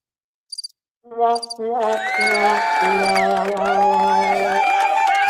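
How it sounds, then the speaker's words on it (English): A crowd cheering sound effect fires from a soundboard button, starting with a few short tones before a loud, sustained roar of whooping and shouting voices that stays full to the end. "We have the crowd cheering"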